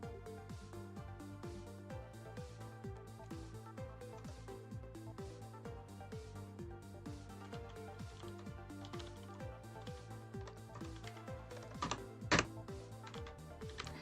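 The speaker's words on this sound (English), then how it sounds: "This is definitely my keyboard." Someone types on a computer keyboard in a quiet room. The keystrokes come in a steady, quick, rapid rhythm at close range, with one sharper clack near the end.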